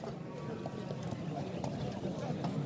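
Hooves of a bay horse, a kok-boru (ulak) mount at a horse market in Nookat, clip-clop steadily at close range amid a busy outdoor bustle and background voices.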